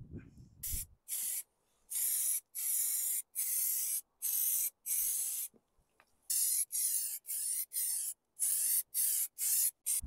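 Short aerosol bursts of primer sprayed onto a repaired sill of an MG TF sports car, a dozen or so close, loud hissing blasts separated by brief silences, with no voices.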